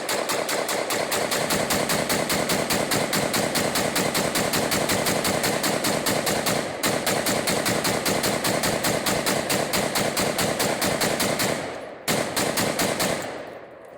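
A rifle fed from an ATI Schmeisser S60 60-round magazine empties it in a long, loud stream of rapid fire lasting over sixty rounds, with only brief breaks near the middle and just before the end.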